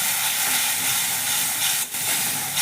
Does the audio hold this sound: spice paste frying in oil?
yes